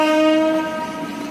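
A train passing near the back of a railway station in Itarsi during monsoon rain, a loud sustained horn blast sounding close, then fading into rumbling wheels.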